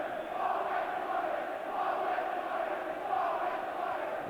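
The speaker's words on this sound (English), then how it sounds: "the fans who used to cheer him, jeering there" Football crowd jeering Duncan Ferguson at Dundee United against Rangers, a dense, steady mass of voices rising in waves, heard from within the stadium with no commentary over it.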